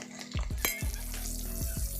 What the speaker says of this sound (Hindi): इसे कड़ा कर कर मैं फ्राई कर ले रही हूँ।